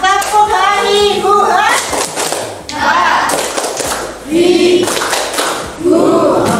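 A group plays the tepuk ha-i-hu hand-clapping game in a classroom activity, giving rhythmic claps and taps in unison, mixed with loud group chanting and children's voices throughout.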